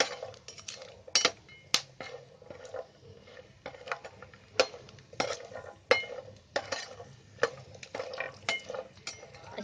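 Cashews and almonds are fried in a pan over high heat and stirred with a spoon. Rhythmic scrapes and metallic clinks sound against a soft, low sizzle.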